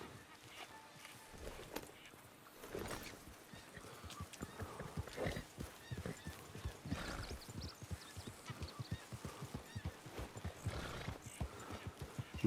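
Horse hooves galloping at a steady fast rhythm in Red Dead Redemption 2, loud and close, with occasional whinnies and no talk over them.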